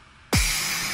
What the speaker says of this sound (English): This is a big crash impact kind of sound.